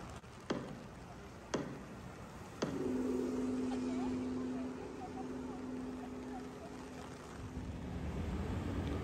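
Cars pass one by one along a city street at night, each arriving as a sharp swell followed by a steady engine hum, heard fairly close in the street's low background rumble.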